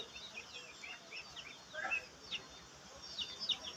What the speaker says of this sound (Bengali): এদিকে 24টার মতো চীনা হাঁস আছে, মুরগিও আছে অনেকগুলো